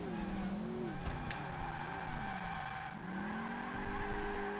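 A car power-sliding in Project Gotham Racing 2, engine droning steadily while tires squeal and skid through a corner, fairly quiet and with no talking.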